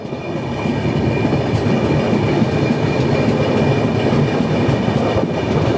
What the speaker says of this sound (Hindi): Crossing Mumbai Varanasi Mahanagari express.